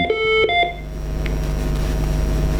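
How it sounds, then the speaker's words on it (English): A short run of electronic dialing tones from a Smartcaller HP5 alarm phone dialing a monitoring terminal beeps at the start, then gives way to a steady low hum and background noise. "the blue phone is actually now dialing out to the monitoring terminal"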